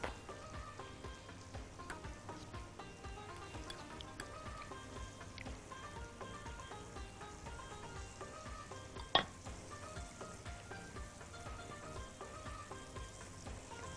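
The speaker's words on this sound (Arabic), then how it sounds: "الفراخ بتاعتنا ما ننساش ان هي بتحمر في زبده وزيت كميه قليله وعلى نار متوسطه" Chicken fries in butter with a little oil over medium heat, a steady, fairly quiet sizzle and crackle that runs throughout, broken once by a single sharp click.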